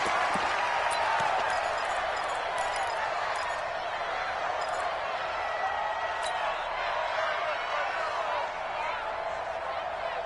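A stadium crowd at a Tampa Bay Buccaneers versus Houston Texans NFL football game cheers with a steady, dense roar that holds throughout, with an announcer talking over it.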